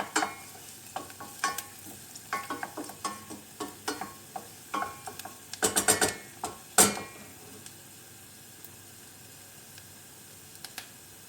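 Finely chopped onions and garlic frying in a pan, lightly caramelizing, with a spoon scraping and stirring in quick irregular strokes over a soft sizzle, close and fairly quiet.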